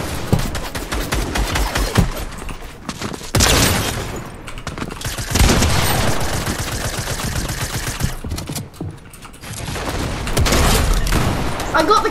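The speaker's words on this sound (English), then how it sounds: "Then for sniper, I'm gonna go to the hunter bolt action." Rifle gunfire in Fortnite from a Hunter bolt-action sniper: loud bursts and booms scattered across the stretch, mixed with other weapon fire and game noise, with occasional talk.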